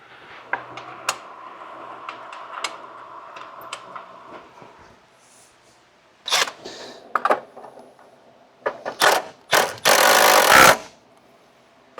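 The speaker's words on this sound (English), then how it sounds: "So now we're just gonna go back and reinstall everything we took out. So first the battery tray." A plastic battery tray being refitted in the engine bay of a 2008–2011 Ford Focus gives light clicks and knocks, then louder bursts of clattering and rattling near the end, with no talking.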